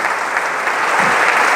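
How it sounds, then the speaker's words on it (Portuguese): Congregation applause at a church service, a steady dense wash of clapping throughout, loud and close, with no voices on top. "Ele merece uma salva de palmas, sim ou não?"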